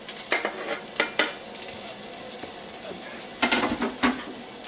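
Chopped garlic dropped into a very hot pan hisses and sizzles softly, broken by a few clattering stirs and scrapes of a utensil against the pan, close and fairly quiet.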